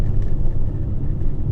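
A VW California camper van climbs over the Col de Montgenèvre mountain pass, a steady low engine and road rumble droning continuously from close inside the vehicle, with no voices.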